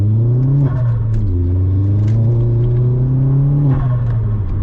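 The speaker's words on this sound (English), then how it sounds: "Right, we lost traction there" A Vauxhall Astra VXR at night accelerates hard from inside the cabin, a loud deep engine drone that climbs through revs, dips briefly at gear changes, and keeps pulling as the tyres lose traction.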